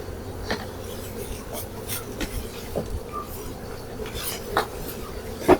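Honey bees drone steadily around hive frames that are being fitted with comb foundation during a kapok honey harvest. The buzzing sits under scattered clicks and light knocks from handling the frames.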